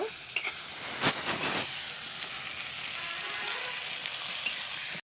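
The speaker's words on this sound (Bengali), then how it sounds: "দিয়ে দিলাম বেগুনটাকে হালকা ভাজা ভাজা করে নিব" Brinjal pieces fry lightly in oil with salt, giving a steady, soft sizzling hiss with a few sharper pops and crackles near the start.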